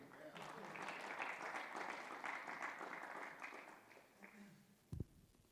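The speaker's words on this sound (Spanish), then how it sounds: "podéis aplaudir." Audience applause during a music talk, a steady roar of many clapping hands lasting about four seconds before it dies away, followed by a single sharp knock.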